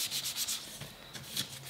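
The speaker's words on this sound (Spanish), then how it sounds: "Tercer trozo, lijado suave para igualar la superficie." A piece of leather strop is lightly sanded in short back-and-forth rubbing strokes, a soft, close, scratchy sweeping with an uneven rhythm and no voices.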